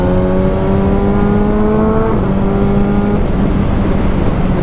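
A motorcycle exhaust pulls steadily at speed on a track, its buzzing engine note rising until a crisp quickshift with an auto-blip drops the pitch in a sharp step, then climbs again, loud and close.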